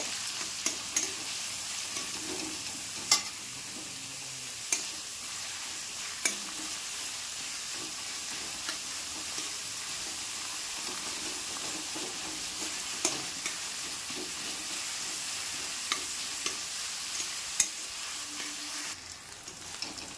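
Chopped onions sizzle steadily in a pan while frying to light brown for kadai chicken, with a continuous hiss and occasional sharp clinks of a stirring spoon against the pan.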